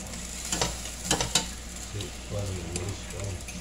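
Star margarine sizzling and frying in a pan for breakfast, a steady crackle with a few sharp scraping stirs of a utensil near the start.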